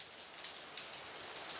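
Heavy rain pours down steadily as a dense, constant hiss of drops on surfaces with no breaks, loud and even throughout with no voices.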